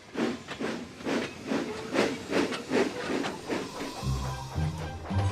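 A Thomas the Tank Engine toy steam locomotive puffs along in rhythmic hissing chuffs, about eight even bursts, close and fairly loud, ending in a lower rumble.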